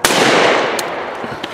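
Single shotgun blast at a sporting clays range, a sharp loud report up close that rings and decays over about half a second, followed by faint distant pops and a short click.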